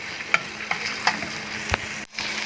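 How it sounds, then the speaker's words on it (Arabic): Two garlic cloves fry in butter in a pan with a steady close sizzle, broken by several brief clicks of stirring and a sudden short drop near the end, with no talking. "فصين من الثوم وحمرها كده مع الزبده"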